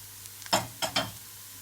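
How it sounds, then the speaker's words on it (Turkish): Chopped onion with added spices sautéed in a pan, heard as three quick close scraping stirs over a faint sizzle, with no talking. "Kavurduğumuz soğana baharatları da ekleyelim."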